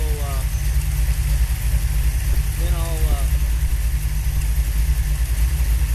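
A car engine fitted with a Holley 4150 carburetor and vacuum advance idles a little high, a steady low rumble running throughout, with brief faint whistle-like chirps from a person nearby.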